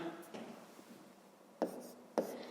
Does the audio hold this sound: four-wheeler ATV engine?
no